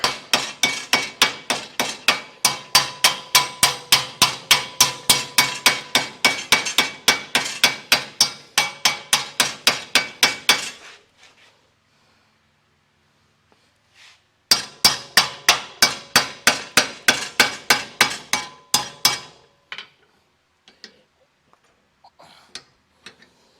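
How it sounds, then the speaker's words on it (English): Rapid, steady hammer blows ring out close by for about ten seconds, pause, then resume in another fast run before trailing off into occasional taps. "You can watch me hammer."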